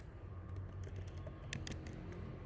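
Quiet, fairly close typing on a computer keyboard while entering column names into an Excel spreadsheet: a scattered run of light key clicks over a steady low background hum.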